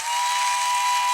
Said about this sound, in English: heard the loud hiss of the steam whistle